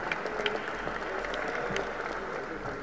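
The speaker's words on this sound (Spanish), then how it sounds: "Un aplauso al director de la primaria" Applause from a school audience for a primary school director at a sports commission event, steady soft clapping throughout, somewhat distant with a faint low hum underneath.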